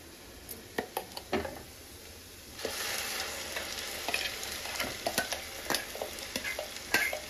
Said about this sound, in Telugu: మనం పేస్ట్ చేసి పెట్టుకున్నాం కదా పాలకూరది, అది దీంట్లో యాడ్ చేసుకుందాం